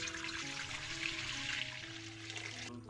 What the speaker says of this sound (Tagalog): Lagay lang po ako ng tubig na pakukuluin.